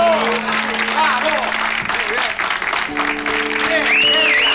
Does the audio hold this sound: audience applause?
yes